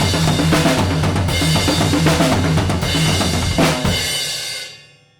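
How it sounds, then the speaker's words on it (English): A drum kit plays a triplet roll moving between the toms and the kick drum, dense and loud with crash cymbals splashing over the top, ending in a final crash that rings out and fades. "It involves a triplet roll between the tom-toms and the kick drum with crashes and a double backbeat"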